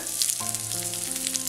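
Ginger and green chili sautéing in hot oil after mustard seeds have popped, for wheat flour upma; a steady soft sizzle and crackle with a faint hum underneath, continuous and close.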